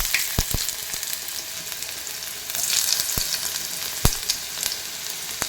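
Chopped onion fries in hot oil for a Malvani fish curry, a constant close hiss of sizzling broken by a few sharp clacks of a spoon against the pan, with no talking.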